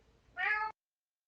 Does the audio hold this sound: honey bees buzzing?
no